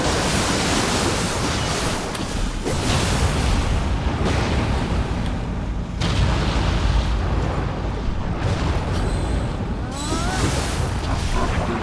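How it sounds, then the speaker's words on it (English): A big explosion in the action game Nioh 2, a loud, dense roar of noise that fills the whole stretch and surges in several heavy bursts before rumbling on. "I like that explosion"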